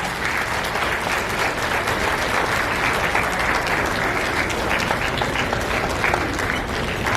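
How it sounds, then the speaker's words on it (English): A graduation audience at a fifth-grade ceremony claps in sustained, dense applause that fills the room evenly from start to finish. "give your parents a round of applause for all that they have done to"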